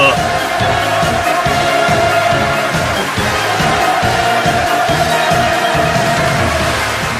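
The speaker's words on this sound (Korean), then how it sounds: "위대한 김정은 동지를 우러러 열광의 환호를 터쳐 올리었습니다" A large assembled crowd at an indoor party workshop roars in sustained, enthusiastic cheering and acclaim, a dense continuous wall of voices that stays loud and close throughout with no pauses.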